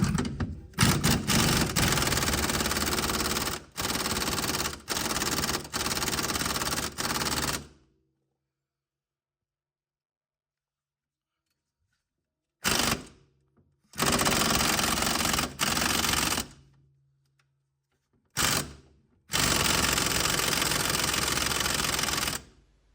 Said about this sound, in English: the only option it will be to cut it out and remove it in this way